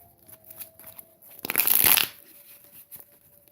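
Tarot cards being shuffled during a reading, a brisk riffling burst of about half a second in the middle, fairly close and fairly quiet, with near silence on either side.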